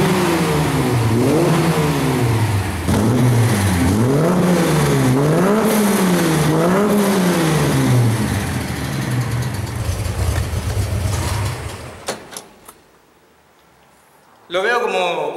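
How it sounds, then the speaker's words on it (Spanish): A Chevy Coupe 250 SS engine keeps running with the key removed, its revs rising and falling in a wavering rhythm, loud and close. Partway through it fades out and goes nearly silent before a loud burst returns at the end. "yo puedo sacar la llave y el motor sigue en marcha"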